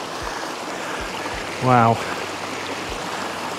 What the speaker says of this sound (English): Loads of little amazing waterfalls as you turn the next corner.